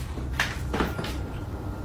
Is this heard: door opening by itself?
yes